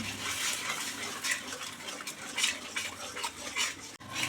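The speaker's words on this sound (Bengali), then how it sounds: "অল্প জল দিয়ে দিয়ে ভালো করে কষে নিতে হবে মশলাটা" A spiced masala paste sautéed with a little water and stirred in a pan for a Bengali lentil-cake dish, giving a close, steady sizzle with scraping and clinks from the spoon against the pan.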